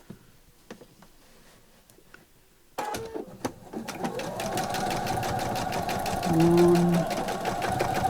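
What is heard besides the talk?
sewing machine stitching a bag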